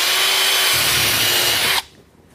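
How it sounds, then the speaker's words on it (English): A power drill whines loudly and steadily as it bores a 3/8-inch pilot hole on a Corvette, then cuts off abruptly, leaving quiet room noise. "So I'm drilling a 3/8 inch pilot hole right here, shooting for the center."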